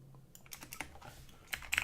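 Typing on a computer keyboard while entering a heli transport name into a mission-editor setting, with scattered soft key clicks that turn quicker and louder toward the end, close by and faint, with no talking.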